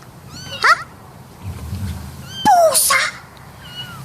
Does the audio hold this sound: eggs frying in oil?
no